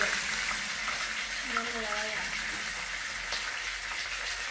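Food frying in a pan during home cooking: a steady, moderately close sizzle and crackle runs throughout, with a brief faint voice-like tone rising midway.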